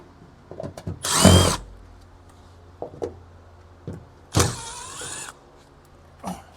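Two short bursts of a whining power drill removing screws from an abandoned 1968 Mustang under restoration, with a rising and falling pitch, separated by a few light knocks and clatters.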